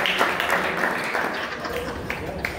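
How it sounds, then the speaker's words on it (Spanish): Congregation at a church Bible study applauding the group, a steady dense wash of clapping lasting throughout, with crowd noise and voices mixed in. "Démosle un aplauso al grupo"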